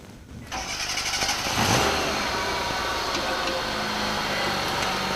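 An engine running with no oil, lubricated only by an A9 lubricant device, starts up and settles into a loud, steady running drone. The revs rise briefly before holding even.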